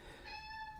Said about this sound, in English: Yeah, you can hear him meowing away.